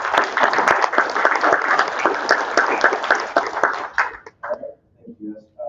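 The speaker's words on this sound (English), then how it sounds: "Give him a round of applause." A room full of people applauds a competitor at a pitch competition in Salina, Kansas, with dense steady clapping for about four seconds that then thins into a few scattered claps and fades out.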